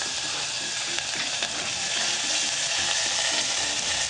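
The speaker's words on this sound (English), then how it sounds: "add our oil to it, and get our onions in there and start them browning off" Onions browning in hot oil in a pot for chicken chili, a steady close sizzle and crackle with no break.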